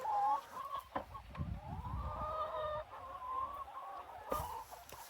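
Laying hens on a small farm cluck and murmur nearby in low, uneven bursts, with a few louder squawks breaking through the soft, continuous chatter.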